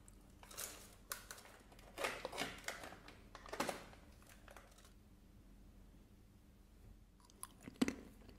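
Pepper and onion flavored cashews being chewed close up, with a few crisp crunchy bites in bursts separated by quiet pauses, no talking.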